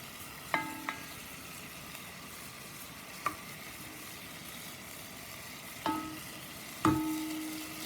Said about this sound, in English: I have this on high heat because I'm browning